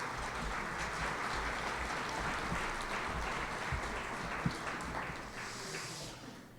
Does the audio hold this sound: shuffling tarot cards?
no